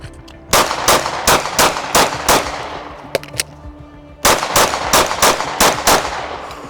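Glock 19 pistol fired in a timed shooting drill: two rapid strings of sharp, loud, close shots in a steady fast rhythm, about eight in the first and seven in the second, separated by a short pause with a few clicks.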